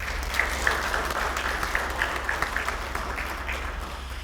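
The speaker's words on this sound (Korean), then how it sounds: "수고하신 시장님께 다시 한번 큰 박수 부탁드립니다" An audience of journalists applauds the Gyeongju mayor at a press meeting, giving a soft, steady patter of clapping that sounds somewhat distant and low in level, with a few sharper claps.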